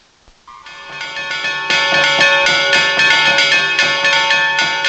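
Bells from a festival recording ring over a wooden box drum, rich sustained metallic tones layering and building, with struck accents recurring steadily throughout and no talking.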